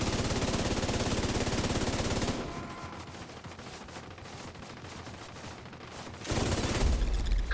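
An assault turret firing in a shooter game, a long stream of rapid machine-gun rounds that drops to a quieter rumble midway and then surges back loud at the end.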